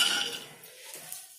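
Almonds tip into a pan of hot desi ghee, giving a short, close clatter of nuts against metal followed by light rattling as they settle, with no talking.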